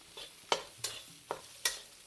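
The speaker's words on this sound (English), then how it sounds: "And now you keep frying this" Haldi, dhania and chilies fry in a pan with peas for stuffed tomatoes, giving a faint, steady sizzle broken by several sharp scraping stirs at an uneven rhythm, with no talk.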